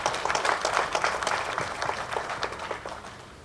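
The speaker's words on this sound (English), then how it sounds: "Please let's give them an applause." Audience applause fills a formal launch ceremony hall, a dense patter of many hands clapping steadily for a few seconds at moderate loudness, slowly thinning toward the end.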